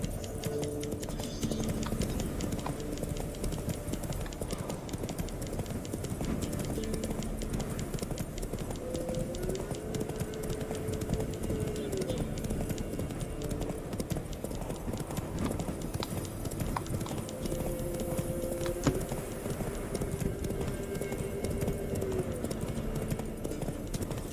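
The horse Roach gallops in the video game The Witcher 3, a steady rhythmic clip-clop of hooves continuing throughout with faint background music.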